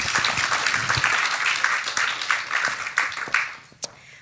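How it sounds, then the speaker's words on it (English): Applause for two presenters at an honours symposium, a brisk burst of clapping from an audience that thins out and stops after about four seconds. "Round of applause for these two"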